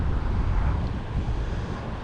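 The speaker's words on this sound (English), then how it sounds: "The wind is really whipping." Strong wind whipping across a river buffets the microphone in a continuous low rumbling roar, loud and close, with no voices.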